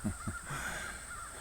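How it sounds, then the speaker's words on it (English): Agitated crows cawing outdoors in New Hampshire, a few loud harsh calls up close at the start, then a steady noisy background with distant squawks. "the birds are all upset"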